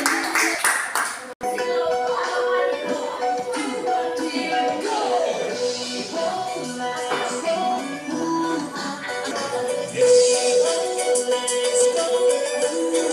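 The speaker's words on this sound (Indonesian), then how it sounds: "tepuk tangan dulu" Classroom audience clapping at a teaching session, a steady patter of hands running throughout with a brief dropout early on and a louder swell near the end, with voices mixed in.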